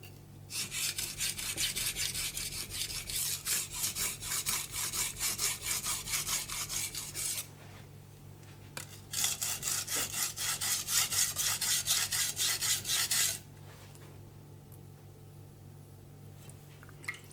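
A knife blade scrapes in long, even back-and-forth strokes across a fine 8000 grit Kitayama whetstone, two close sustained bursts of rasping separated by a short pause.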